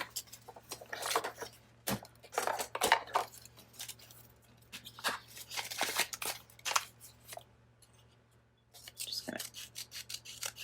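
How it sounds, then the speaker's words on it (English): Scissors snip and trim lace and fabric for a journal page pocket, giving a series of short, close cutting and rustling sounds in uneven bursts with brief pauses. "But let me trim this a little bit better."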